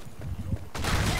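Gunfire in the Blackshot video game: a sharp, loud shot bursts in near the end after a lower murmur, then sustains briefly like a short volley.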